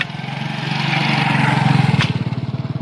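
A motor vehicle, probably a motorcycle, arrives with a steady engine drone that grows louder and settles into a pulsing idle close by, heard alone.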